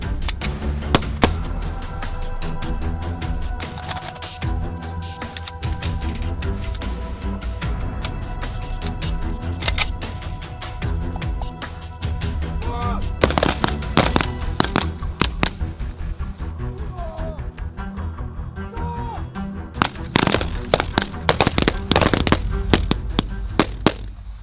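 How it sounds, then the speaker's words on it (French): Infantry rifles fire at a military shooting range, a long stretch of sharp, loud cracks from several shooters, some in rapid strings and some spaced out, with voices at times behind the shots. "ici on a fini les tirs pour la matinée"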